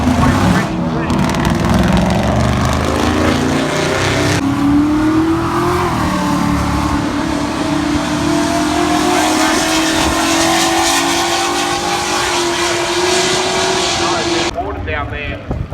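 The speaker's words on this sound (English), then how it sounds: "Patrick Daly on board the lovely Holden GTS down here, the 6 litre, and no name recorded in lane number 2 that gets away from" A 6-litre Holden GTS launches at a street drag strip, its engine roaring loud with a rising pitch as it accelerates down the lane. A commentator talks over the sound on the PA.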